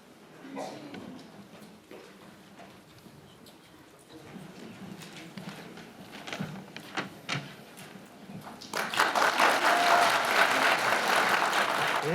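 Applause from an audience at a Seoul policy forum on semi-industrial zones in Yeongdeungpo, honoring a city council member; dense clapping swells in over the last few seconds after quieter murmuring and scattered sounds.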